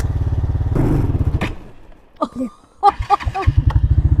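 Quad bike engine idling with a rapid putter, sputtering and dying out, then restarting and chugging again; brief voices are heard in between.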